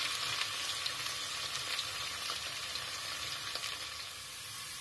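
Onions fry in oil until pink for a South Indian tadka with potatoes, a soft, even sizzle that stays quiet and steady throughout with only faint occasional crackles.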